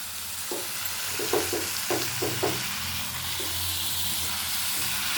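Chicken curry is stirred in a hot pan, a spoon scraping in a quick run of short strokes over continuous sizzling and frying hiss that carries on after the stirring stops.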